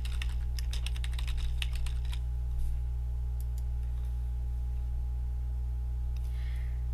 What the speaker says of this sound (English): We will type Personal Income Binghamton in the box.